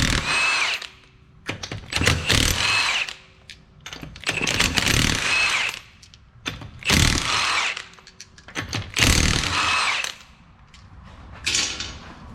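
A power tool, likely an impact gun, works the five 19mm lug nuts off a car wheel in repeated loud, close bursts of whirring and hammering, separated by brief gaps.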